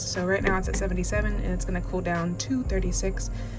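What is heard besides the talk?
No everyday noises stand out.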